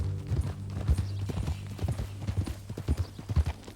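Horse hooves clip-clop steadily at a walking pace in Red Dead Redemption 2, close and fairly loud, with a brief whinny and background game ambience.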